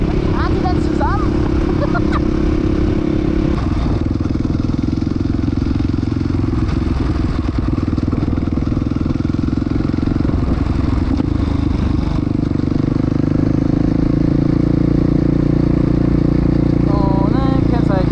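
Husqvarna FE 450 enduro motorcycle engine running on the street with uneven throttle response at low revs, a loud steady drone that swells near the end, with voices talking over it.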